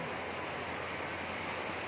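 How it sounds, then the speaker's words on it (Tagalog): Dense, steady hiss of heavy rain falling on a surface, continuous and loud with no gaps. "Lakas ng ulan, no?"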